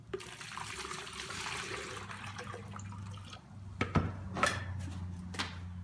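Washing soda solution pours from a bucket into a small electrolysis tank, a steady splashing water rush that fades into trickles and a few drips and clinks.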